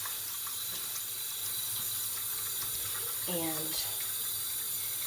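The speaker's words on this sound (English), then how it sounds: "So you fill your basin again," Cool water runs from a tap into a basin, a steady close splashing flow that continues under a brief spoken word.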